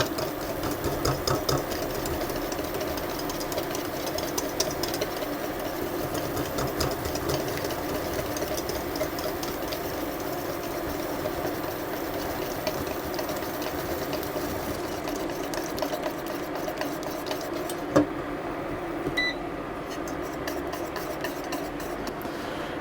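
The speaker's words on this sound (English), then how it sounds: "I'm going to whisk it as I gradually add my egg." A whisk beats egg into a warm mixture in a pot for Nanaimo bars, making a fast, steady run of faint metallic clicks and scrapes throughout, with no talking.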